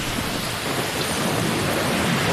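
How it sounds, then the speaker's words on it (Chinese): Heavy typhoon rain pours down in Shanghai as a dense, loud, continuous roar of rain on surfaces mixed with thunderstorm rumble, close and unbroken throughout with no voices. "哇，这个雨猛的"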